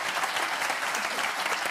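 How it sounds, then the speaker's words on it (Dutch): A live audience breaks into steady, loud applause, a thick continuous patter of many hands clapping that fills the whole stretch evenly without pause. "geef me even applaus"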